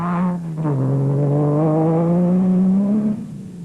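A Nissan Navara race truck's engine revs hard during the 2006 Dealer 400 desert race, a loud, sustained droning roar that holds steady pitch before easing off at the end, with no voices.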